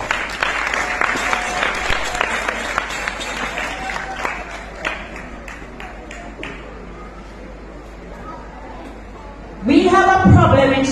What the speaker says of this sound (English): Come on somebody, clap yourselves.